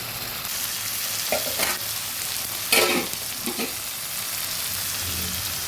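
Katla fish curry bubbling in a pan after slit green chilies go in, a constant soft sizzle with a few brief scraping stirs, no voices.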